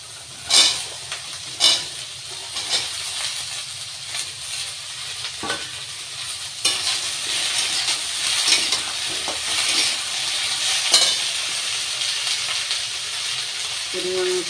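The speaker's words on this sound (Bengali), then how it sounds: "সোয়াবিনগুলো একটু নেড়ে দিয়েছি। এইবার সবজিগুলো দিয়ে দেবো।" Soybeans and vegetables fry in a pan with a steady sizzle and hiss, punctuated by scraping strokes of a spatula as the mixture is stirred, close and clear.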